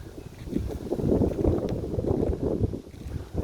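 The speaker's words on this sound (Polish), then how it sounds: "no tutaj już wieje, pewnie mnie już słabo słyszycie, ale to już mocno zawiewa" Strong Scirocco wind buffets the microphone outdoors, producing loud, gusting low rumble that swells and fades over a few seconds.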